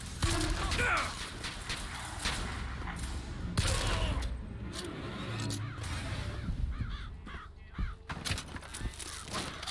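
Scattered gunshots ring out in Bioshock Infinite, sharp bursts spaced unevenly over a busy, noisy game soundscape with harsh caw-like cries mixed in.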